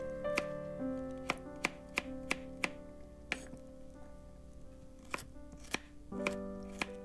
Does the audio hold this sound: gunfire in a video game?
no